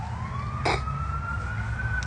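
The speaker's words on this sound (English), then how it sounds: "Sirens." A siren wails with a slowly rising tone over low engine rumble, close by, with a brief burst of broadband noise midway.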